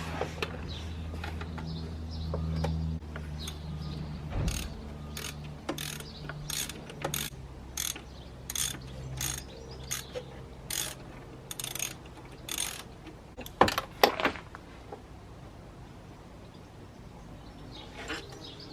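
A ratchet loosening Torx bolts on the EGR cooler of a BMW M47 diesel engine: close, rapid clicking bursts in a steady rhythm, with a low hum early on and a few sharper knocks near the end.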